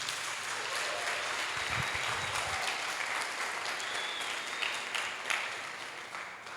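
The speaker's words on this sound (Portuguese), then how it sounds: "Você pode aplaudir o Senhor por isso?" A church congregation applauding during a sermon, steady broad clapping from a crowd that carries on for several seconds and eases slightly toward the end.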